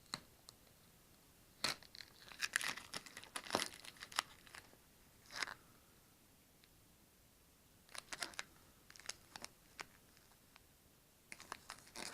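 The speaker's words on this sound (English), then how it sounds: "Just want to get all this blue tape out of here before I start working on this. But it's actually peeling nice." Strips of blue masking tape peeling off the body of a Toyota 4Runner, a series of close, sharp crinkling and tearing bursts with pauses between pulls, no talk.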